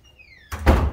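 A heavy door opens with a loud thunk and broad rumbling movement, following a faint high whine, with no voices.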